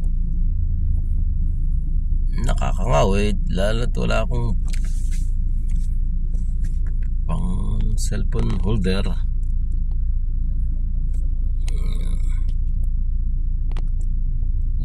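Car engine rumble from inside a vehicle stuck in Skyway traffic near Makati's buildings, a constant low drone running throughout while someone talks intermittently over it.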